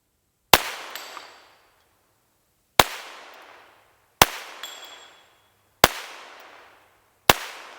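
Five sharp, loud gunshots from a Volquartsen Scorpion .22 pistol fired at a 100-yard target outdoors, spaced a second or two apart, each a crisp crack with a short decaying echo and no talking.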